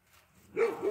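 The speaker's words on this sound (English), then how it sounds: "that's the dog in the background" A dog barks in the background, one or two muffled woofs arriving late and fairly near, after a stretch of quiet room noise, with no speech over it.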